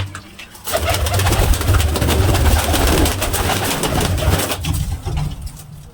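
Loud, close pigeons coo continuously in overlapping low, throaty calls, filling the whole clip with a dense murmuring rumble.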